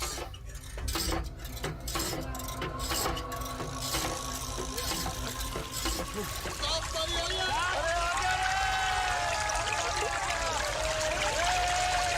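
Water pours out in a trickling, gurgling stream that grows stronger toward the end, mixed with clattering metallic knocks early on, while people talk throughout.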